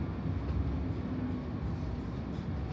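London tram 2548 running at speed, a steady low rumble of wheels and motor with faint rattles, heard from inside the car, continuous and moderately quiet.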